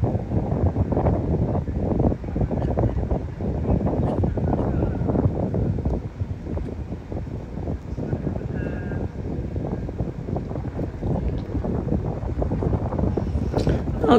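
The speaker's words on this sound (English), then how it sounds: "It was very windy." Outdoors while fishing, a steady, rumbling wind buffets the microphone throughout, fairly loud and unbroken, with no clear talk.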